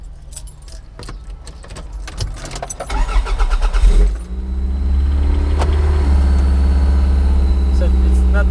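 Toyota MR2 being started: keys jangle and the starter cranks for a few seconds before the engine catches and settles into a loud, steady idle close by.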